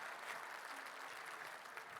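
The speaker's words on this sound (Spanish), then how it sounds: "dale un aplauso fuerte al Señor, hombre" Faint, distant applause from a church congregation clapping for the Lord, a soft continuous patter of many hands with no talking.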